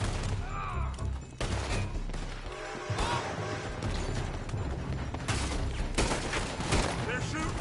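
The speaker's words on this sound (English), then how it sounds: "They're shooting from that building!" Gunfire from a building in Red Dead Redemption 2 sounds in dense bursts amid clattering crashes and a busy, loud mix of game action, with voices in the background.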